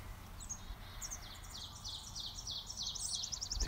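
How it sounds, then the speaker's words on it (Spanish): Small birds chirp and tweet repeatedly in the background of a home vegetable garden, quick high twitters recurring throughout over faint low rumble, growing a little louder toward the end. "Se escuchan los pajaritos de fondo."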